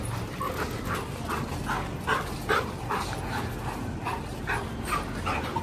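Several Indian-breed dogs at a dog hostel whimper, yip and give short barks in a steady, overlapping stream, close and fairly loud, with no talk.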